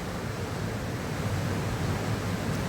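A small river in the Jura runs with a steady, soft rushing wash, continuous broadband flow heard up close with no voices.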